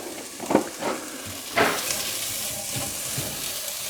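Food hits hot oil with a few sharp crackles, then a steady sizzle continues close by, with occasional pops and stirring sounds.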